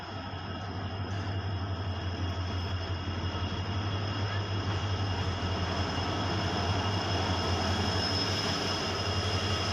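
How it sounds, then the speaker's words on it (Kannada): Passenger train pulling into a railway station on a route from Hassan toward Subrahmanya Road in the Western Ghats, a steady low engine hum and rolling rail rumble that builds slightly louder over the whole stretch. "ನಮ್ಮ ಟ್ರೈನ್ ಕೂಡ ಬಂದೇ ಬಿಡ್ತು."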